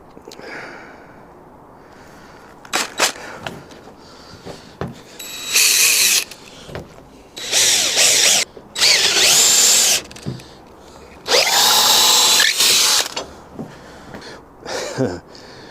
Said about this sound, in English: I'm going to drill from one side and then drill from the other side.